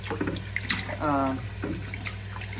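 Rice being rinsed by hand, grains swirled slowly through water to wash off the starch, with a soft running-water wash and an intermittent voice talking over it.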